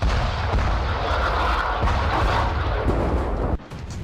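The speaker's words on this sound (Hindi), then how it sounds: "हिजबुल्लाह के लड़ाके इजरायली सेना के वॉच टावर पर लगातार रॉकेट दाग रहे हैं।" Rockets are fired at an Israeli army watch tower, a dense, loud, rumbling roar of launches and blasts that sustains for several seconds, then cuts to a quieter rumble.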